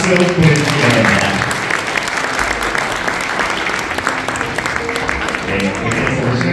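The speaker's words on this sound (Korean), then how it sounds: "다시 한번 두 사람에게 따뜻한 박수로 보내주시기 바랍니다." Wedding guests applaud the couple during the ring exchange at a Korean wedding ceremony, a steady, dense round of clapping filling the hall throughout, with a voice faintly audible beneath it.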